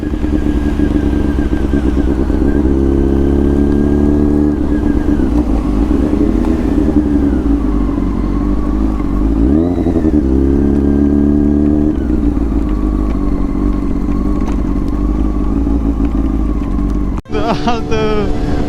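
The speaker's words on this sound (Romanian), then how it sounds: "Altă tură cu motocicleta lui Mușat" A motorcycle engine drones loudly and continuously while riding, its pitch rising and falling with gear changes, along with wind noise and a brief sharp knock near the end.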